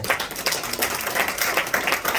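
A church congregation claps together, a dense crackling patter of many hands that holds steady and moderately loud the whole time.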